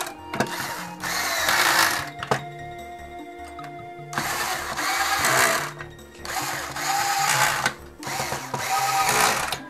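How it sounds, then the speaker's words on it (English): A Hitachi power drill drives screws into a Super Nintendo console shell in close, loud whirring bursts, four separate runs broken by short pauses and small clicks. "back the screw out slightly first and then start drilling them in"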